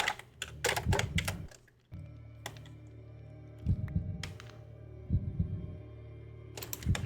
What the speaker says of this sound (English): The heartbeat is so fast